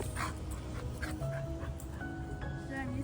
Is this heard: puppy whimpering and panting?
yes